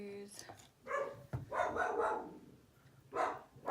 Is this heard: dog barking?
yes